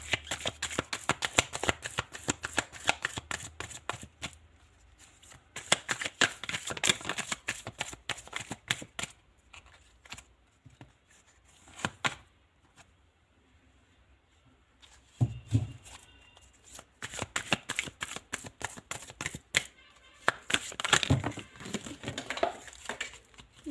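Tarot cards are shuffled in quick bursts of crisp riffling and slapping, with short pauses between rounds, close and fairly loud with no talking.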